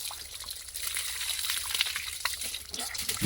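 Water pours and splashes outdoors as a truck driver bathes, a continuous close trickling and gushing that swells near the end.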